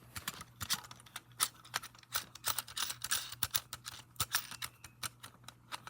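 A hex bolt being put back onto a fire alarm pull station, a quick close series of faint metallic clicks and ticks at an uneven rhythm from turning and handling the small metal parts.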